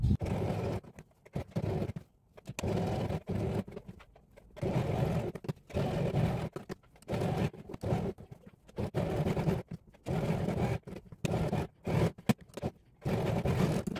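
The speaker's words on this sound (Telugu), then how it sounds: "ఇప్పుడు స్టిచ్ చేసుకుందాం." A sewing machine stitches the buckram lining of a girl's crop top front in short, busy runs broken by brief pauses, with a steady close mechanical whir and no talking.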